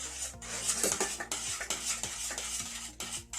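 A spoon stirring warm chocolate truffle mixture in a pan over heat, rhythmic scraping sweeps repeating about every half second over a soft sizzle, close and clear with no voices.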